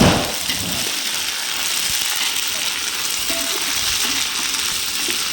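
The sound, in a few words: ginger garlic paste frying in oil for mutton biryani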